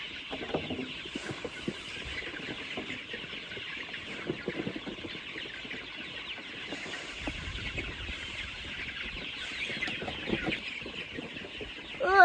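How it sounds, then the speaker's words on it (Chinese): A flock of farm chickens clucks at feeding time in rainy weather, with busy overlapping clucks and squawks close by, continuous and fairly soft, with scattered rustling and movement around them. "咱们去喂鸡。"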